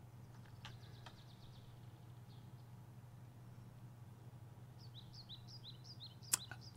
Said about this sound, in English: I like the bird sounds